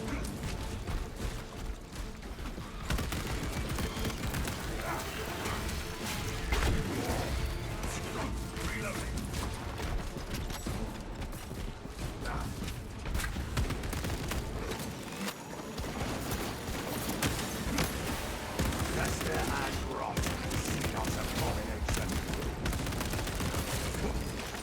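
Rapid auto bolt rifle fire in Space Marine, a dense continuous clatter of shots and mechanical action running nearly unbroken under steady talking.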